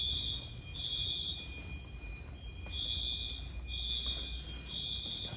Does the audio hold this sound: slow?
no